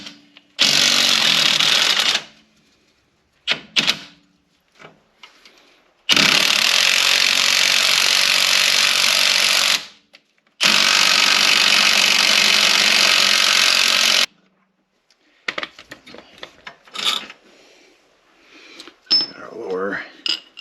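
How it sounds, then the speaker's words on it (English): An 18mm tool works the nut off the lower strut bolt during a front strut replacement on a 2004 MK4 Volkswagen New Beetle. It makes three loud, close bursts of harsh mechanical whirring lasting a few seconds each, then scattered clanks and rattles. "we're going to use an 18mm to take the nut off the end of the bolt for the lower strut"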